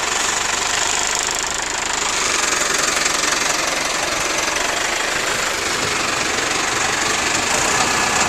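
A farm feed-distributing machine's engine runs steadily nearby, a loud continuous mechanical rumble and clatter with no pauses.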